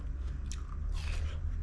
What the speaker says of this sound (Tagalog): Ngayon, kagatin ko ito.